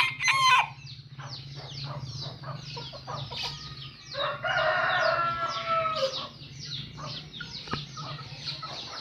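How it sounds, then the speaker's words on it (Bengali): Serama chickens, a rooster and a hen of the world's smallest breed, about seven to eight months old, crow and cluck close by in a lively, overlapping burst with no talk. "সেরেমা পৃথিবীর সবচেয়ে ছোট মুরগি, ছেলে মেয়ে।"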